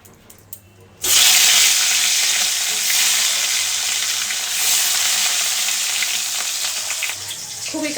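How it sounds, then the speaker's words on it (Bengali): Fish slides into salted hot oil in a pan, bursting into a loud, sudden sizzle after a second of quiet, then frying steadily up close. "এবার আমি মাছটা দেব।"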